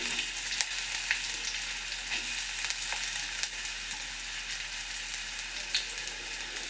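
Onion fries in a pan alongside garlic for Mangalorean-style crab sukka, giving a continuous close sizzle with scattered crackles and light scraping throughout.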